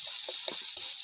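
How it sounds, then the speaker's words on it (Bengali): Chopped onion, ginger and garlic fry in hot oil, a brief close hiss of sizzling with a few soft stirring sounds beneath it. "তো আলুটার জন্য আমি প্রথমে পেঁয়াজ কুচি দিচ্ছি"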